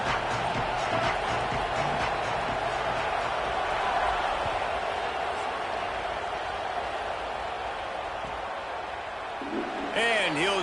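A home stadium crowd at a football kickoff gives a loud, steady roar that fills the whole stretch and swells slightly near the end.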